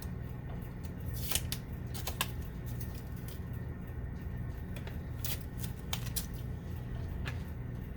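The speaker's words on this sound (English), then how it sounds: "Take the tape off." Tape being peeled off a sublimation wrap, a run of close crinkly tearing and crackling sounds with sharp rips scattered over a steady background hum.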